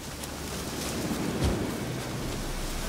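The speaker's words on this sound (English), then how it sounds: "Looks like rain." Steady rain falls in The Witcher 3: Wild Hunt, a dense, even hiss with a faint low rumble like distant thunder near the middle, no voices over it.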